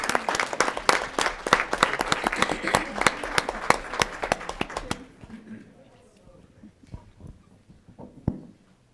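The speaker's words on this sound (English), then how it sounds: "One more round of applause, please." Applause at a school district board of education meeting, with sharp, distinct claps from a small group that thin out and stop after about five seconds, leaving a quiet room with a few faint knocks.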